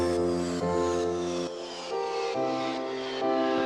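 A descending downlifter sweep runs over a sustained synth chord, with layered tones gliding lower in a few steady waves before the music shifts.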